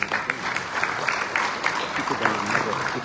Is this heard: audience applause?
yes